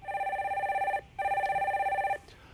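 Two electronic telephone ring bursts, each about a second long with a short gap between them, loud and close, with no talk over them, as a call-in radio show connects its next caller.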